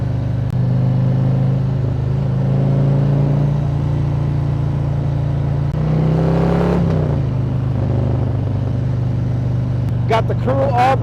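A 2022 Harley-Davidson Low Rider ST riding along a road, its engine a loud steady low rumble heard up close with one rising rev near the middle, while someone talks over it.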